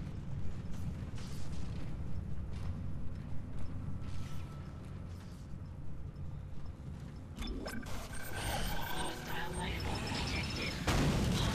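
An explosion in the Dead Space video game bursts out partway through, a loud crashing blast with metallic debris and rumble following tense ambient game noise, while someone talks over it.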